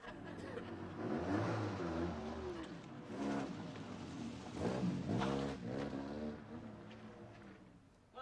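A rough old banger of a car revs and drives off, its engine rising and falling through several surges before fading away. The sound is moderately close, with no talk.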